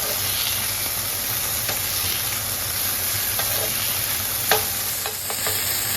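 Mongolian beef sizzles and hisses steadily in a hot pan while being stirred, a loud continuous frying crackle with occasional sharp scrapes and clinks of the utensil against the pan.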